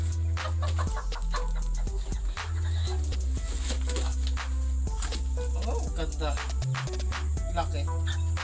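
Black Australorp and Rhode Island Red chickens cluck in short, close bursts while people talk loudly over them.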